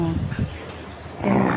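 Several pet dogs whimpering and whining in short, close, high-pitched bursts at the start and end, with someone speaking among them.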